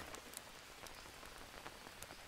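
Steady rain falls in the jungle survival game Green Hell, a dense, even patter of drops on surfaces with scattered sharper splashes, constant and moderately loud with no talking.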